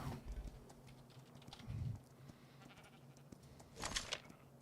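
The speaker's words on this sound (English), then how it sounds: "we got a couple abomination sheep over here that have to be removed" Sheep bleating in Ark Survival Evolved, a couple of short, fairly faint bleats at a distance amid quiet game ambience and soft clicking.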